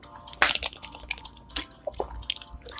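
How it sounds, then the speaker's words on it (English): A person sips from a water bottle, giving a few soft wet gulps, squishes and clicks up close, fairly quiet with no talking. "that's me drinking."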